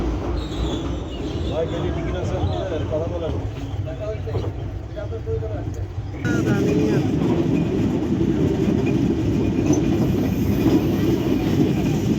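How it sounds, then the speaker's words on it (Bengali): A train creeps slowly across a broken bridge that is under repair, giving a continuous rumbling, rattling roll that grows louder and fuller about halfway through, with a voice talking over the first half. "খুব ধীরে ধীরে ট্রেনটা যাচ্ছে, দেখুন।"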